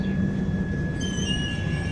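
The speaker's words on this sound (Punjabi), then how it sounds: "ਗੱਡੀ ਆਪਣੀ ਨਿਕਲ ਚੱਲੀ ਆ" A train rolls steadily along the rails with a continuous low rumble and a thin, high metallic whine running throughout.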